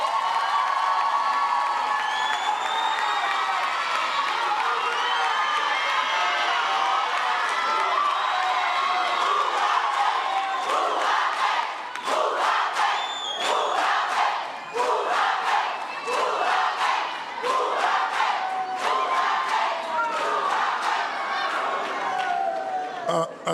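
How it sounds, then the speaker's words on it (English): A graduation hall crowd at a university ceremony in South Africa cheers, whoops and applauds the lecturers, a dense continuous roar of many voices with scattered claps growing more percussive midway. "Give a round of applause to the lecturers,"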